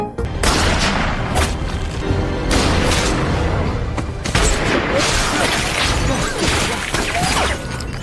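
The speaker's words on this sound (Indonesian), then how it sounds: "Brandon akan memutus tali Carlo menggunakan senjatanya" A gunshot in an action film scene cuts through a rope amid a dense, loud soundtrack of booms, crashes and sharp impacts layered over continuous dramatic noise.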